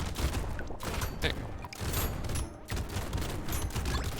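Video game gunfire pours out in dense, continuous bursts of rapid shots, loud and close, with brief gaps between volleys over the four seconds.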